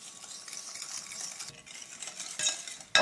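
Yogurt cake batter being whisked with sugar in a bowl: quick, light scraping and tapping strokes in an uneven rhythm, close up, ending in a sharper clink, with no voices.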